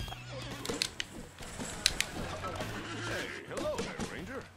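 A black horse neighs in the video game Disney Infinity: The Lone Ranger, with whinnies rising and falling among thumps and game noise while people talk over it.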